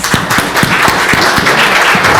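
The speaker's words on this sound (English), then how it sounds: "Please join me in giving them a round of applause." A loud, close round of applause from a panel audience at a public workforce event, steady full clapping with a few sharp individual claps cutting through.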